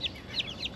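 Newly hatched chicks from a backyard incubator peep in four quick, high, downward-sliding chirps, fairly faint and evenly spaced with no talking.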